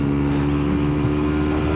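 A Yamaha MT-125 motorcycle pulling in third gear on a roll-on, a loud steady close engine drone with strong even harmonics throughout.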